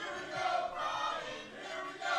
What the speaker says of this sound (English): Crowd trying to get behind Brian Murphy